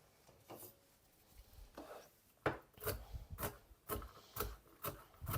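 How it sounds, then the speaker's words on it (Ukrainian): Nuts are chopped with a knife on a board, producing a series of quiet, crisp cuts and taps, irregular at first and then in a faster run of close strikes. "Буду нарізати горішки теж"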